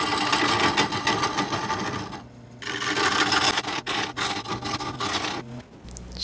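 Wood and resin spinning on a lathe under a larger carbide tool, a loud continuous rasping, scraping drone with a brief dip midway and cut-off near the end, no talking.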